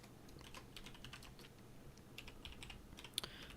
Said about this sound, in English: Let me type that.